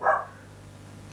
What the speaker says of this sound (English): that fucking dog, he's been barking all day and nothing